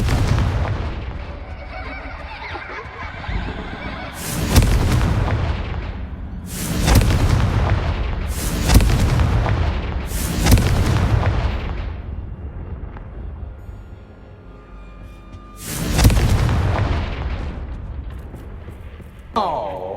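Bombarda and Confringo spell explosions in the video game Hogwarts Legacy: five loud, booming blasts a couple of seconds apart, each trailing off in a rumbling decay, with a player's voice calling out between them.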